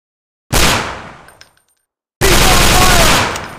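Automatic gunfire from a commando shooting video game, two loud sustained bursts with a short quiet gap between them, each dense and close.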